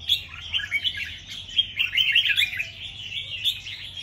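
A red-whiskered bulbul (chào mào) sings a continuous run of bright, warbling chirps and trills, close and clear over a quiet background at midday.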